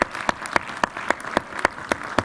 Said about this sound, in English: Stand up, David, so everybody can give you a clap.